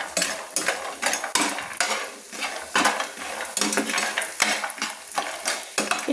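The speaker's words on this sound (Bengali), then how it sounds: "আমি এই বড়িগুলো একটু ভেজে নিচ্ছি।" Bori, small lentil dumplings, frying in hot oil in a pan, with a steady close sizzle broken by repeated scraping and stirring clatter from a utensil against the pan.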